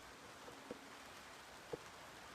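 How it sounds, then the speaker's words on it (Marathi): Faint, even wash of rain falling steadily, with a few soft drip taps standing out now and then; no voices. "मित्रांनो या ठिकाणी भरपूर असा पाऊस"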